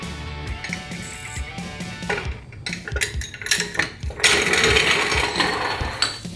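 Someone slowly tightens a bolt by hand with a wrench near a motorcycle gas tank, making close, irregular metallic clicks, clinks and scraping taps that get busier toward the end, with no speech.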